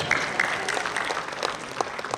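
An audience at a Hindi comic poetry gathering claps for a couple of seconds, a brisk scatter of hand claps heard close and fairly loud.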